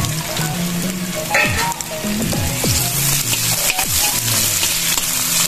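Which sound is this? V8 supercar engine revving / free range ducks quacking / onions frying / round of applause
onions frying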